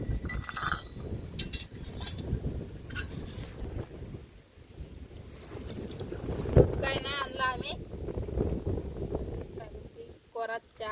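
Wind buffets and rumbles steadily against the microphone beside a river, with a few brief voices talking over it.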